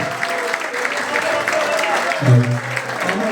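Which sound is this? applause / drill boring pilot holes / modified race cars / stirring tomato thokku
applause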